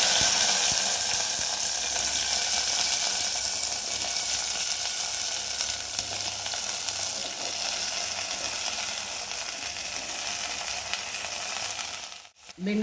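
Okra pieces fry steadily in hot oil in a pan, giving a continuous close sizzle with faint stirring, broken by a brief dip near the end.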